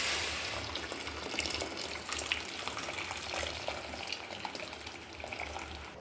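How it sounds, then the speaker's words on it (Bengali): Boiled hot water poured into polao rice frying in mustard oil, giving a steady, loud rush of liquid over a hissing sizzle that continues throughout without pause. "পানিটা দিয়ে দেব"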